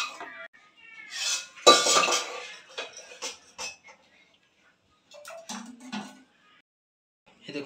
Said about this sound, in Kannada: ನೋಡಿ ನಾನು ಪ್ಲೇಟ್ಗೆಲ್ಲ ಸರ್ವ್ ಮಾಡ್ತಾ ಇದ್ದೀನಿ.